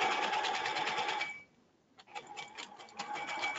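Sewing machine stitching the shoulder seams of a men's ballet shirt, running steadily with a fast mechanical chatter, halting briefly in the middle, then starting up again close and loud.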